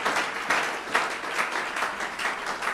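A church congregation claps together at a Sunday service, a steady mass of applause with rhythmic swells, moderately loud and without voices over it.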